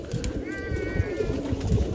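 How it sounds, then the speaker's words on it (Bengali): A pair of pigeons coos low and close, with a brief whistle-like tone in the middle and constant low background noise. "এখানে এক প্যার কবুতর আছে মাসাল্লাহ খুবই সুন্দর এক প্যার কবুতর"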